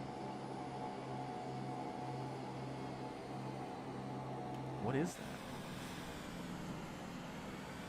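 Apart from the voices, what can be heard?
Cirrus Vision Jet flying by in Microsoft Flight Simulator 2024 (video game)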